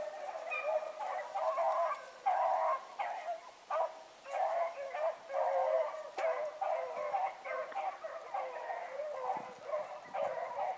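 A pack of hunting dogs bays continuously in the distance, overlapping howls and barks forming a steady chorus with no talking.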